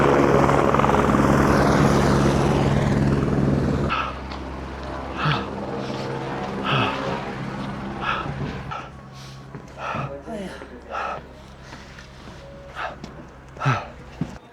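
A helicopter near Everest gives a strong, continuous rotor drone for about four seconds, then fades to a faint hum under scattered voices and a few dog barks.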